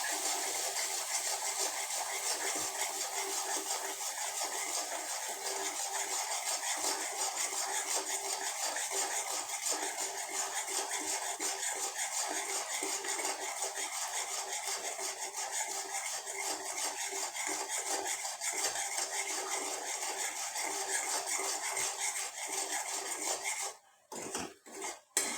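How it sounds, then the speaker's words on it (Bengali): Egg curry being stirred and sautéed with salt, turmeric, chili powder and garam masala in a pan: a steady, continuous scraping and clinking of a utensil against the pan, ending with a short clatter. "একটু কষাবো।"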